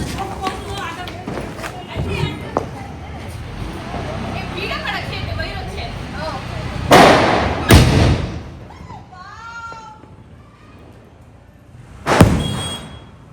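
Firecrackers and a 15-shot fireworks cake go off outdoors, giving loud sharp bangs spaced several seconds apart among thuds, while a small crowd chatters and people talk nearby.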